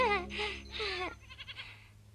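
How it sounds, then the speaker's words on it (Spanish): Goats bleat in a Heidi cartoon scene, two wavering, drawn-out cries in close succession followed by softer, shorter bleats, with a low steady hum underneath and no talk. "Si quieres, puedes ir con Pedro y las cabras a los pastos."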